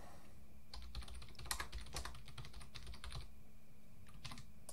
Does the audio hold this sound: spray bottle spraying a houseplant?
no